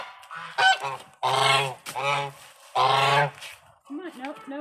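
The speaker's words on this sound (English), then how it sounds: "I'm not getting attacked by geese." Geese honk loudly and repeatedly at close range in a few harsh bursts, with a person's voice mixed in.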